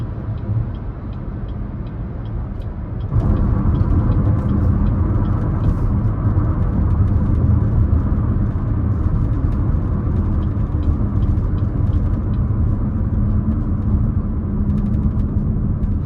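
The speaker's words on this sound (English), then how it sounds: "the ride coming down the interstate here is pretty nice and somewhat quiet, actually." Cabin of a 2023 Chevrolet TrailBlazer ACTIV 1.3T cruising on the interstate, a steady broadband road and tire rumble that steps up louder a few seconds in and then holds constant throughout, with no talking.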